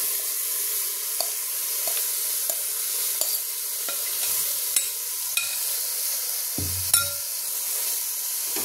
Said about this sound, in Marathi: कांदा आणि टोमॅटो परतत आल्यावर त्यामध्ये मी हे मॅरिनेट केलेले सोया चंक घालते